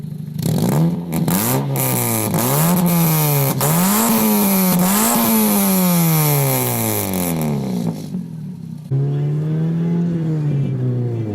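A Mazda 323F with a 1.8 engine and a Remus straight-through exhaust revs loudly and close, rising and falling through repeated throttle blips and a long climb, then settles back to a rough, throaty idle.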